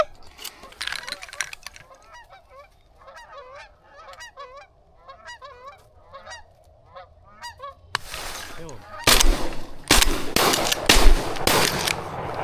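Flock of geese honking repeatedly during a goose hunt, calls coming in a steady series, then several loud shotgun blasts crack out near the end with brief talk mixed in.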